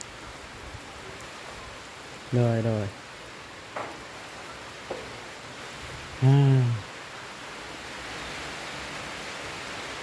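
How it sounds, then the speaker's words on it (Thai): Heavy rain drums steadily on a corrugated metal roof, a dense, constant hiss that continues under two short bursts of a man's speech and a couple of faint knocks. "ฝนตกก็สิออกไปก็เปียกเสียงดังฝนตกใส่สังกะสี"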